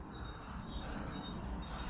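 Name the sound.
birds chirping at an air raid shelter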